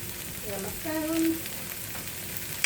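Onions and ham frying in a pan for fried rice, a steady close sizzle with a brief swell as they hit the oil, and a faint voice speaking underneath.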